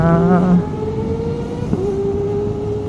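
A Kawasaki ZX-25 motorcycle engine revs high with a whining pitch, easing off briefly then holding a steady elevated tone, heard at moderate distance with no talk.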